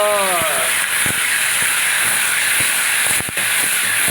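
Saag hitting a hot pan for tadka gives a loud, steady hiss and sizzle, with brief clatters of utensils now and then.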